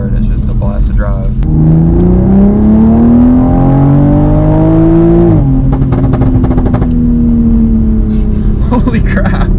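A 500HP Toyota Supra revs hard, its engine tone climbing steadily then dropping off with a crackle of exhaust pops and bangs, loud and close, with people talking over it.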